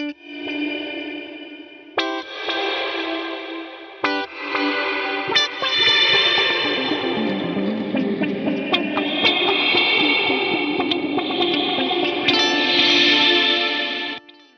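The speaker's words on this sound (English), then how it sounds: "with this black hole reverb from the H9, this is really fun" Electric guitar played through an H9 pedal's Black Hole reverb with distortion, notes and chords swelling into a dense, sustained ambient wall of sound.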